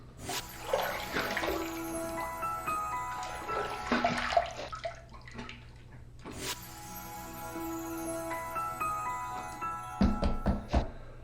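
A Lord razor is rinsed under a running tap in two spells of flowing, splashing water, followed by a quick series of sharp taps at the end.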